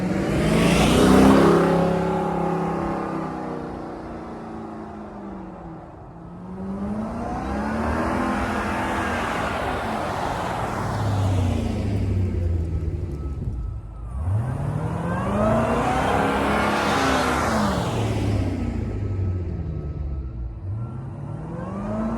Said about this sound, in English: I'm actually going to do a couple of drive-bys with the stock intake